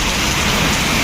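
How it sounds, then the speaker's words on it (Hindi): Heavy morning rain pours down steadily, a dense, loud, unbroken hiss of drops drumming on surfaces close by, with no voices. "सुबह बखैर हो चुकी है हमारी और बारिश हो रही है बड़ी ज़बरदस्त किस्म की"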